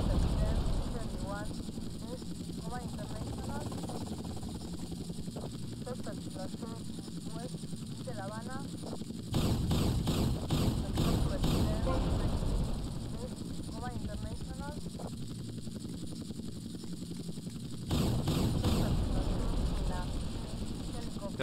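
A helicopter in the video game GTA Vice City whirs with steady, droning rotor noise throughout, growing louder in two bursts, while someone talks over it much of the time.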